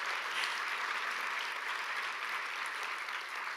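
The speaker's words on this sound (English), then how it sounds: "You can clap for that." Steady audience applause at a talk on Palestine in Minneapolis, a dense, even wash of clapping that holds at one level throughout with no voices over it.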